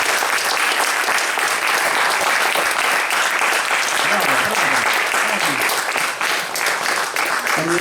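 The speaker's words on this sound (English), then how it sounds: "Let's give one more round of applause for these folks and for your critics." Vigorous, sustained applause from a concert audience for a brass quintet, thick and continuous, with scattered cheers and voices rising through it.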